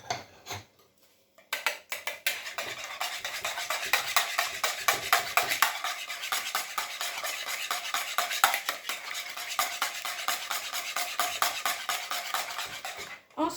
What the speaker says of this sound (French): Je vais donc fouetter les œufs en premier.